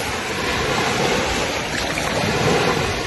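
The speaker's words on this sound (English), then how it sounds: "the waves being so rough and it coming with the loud noise" Rough ocean waves at the beach roar in a continuous, loud wash of surf with heavy wind buffeting the microphone throughout.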